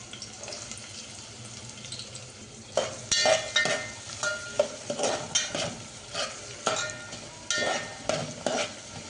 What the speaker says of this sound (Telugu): సో ఆయిల్ కొద్దిగా వేడైన తర్వాత ఆనియన్స్ వేసేద్దాం.